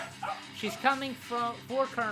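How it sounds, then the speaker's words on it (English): A pet dog in a home gives a run of high, whiny yips and short barks close to the microphone, several bursts over about two seconds. "Sorry if you hear my dog, she's in the background"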